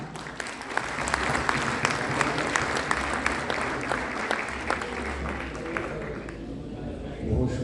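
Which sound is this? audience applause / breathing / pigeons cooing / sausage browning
audience applause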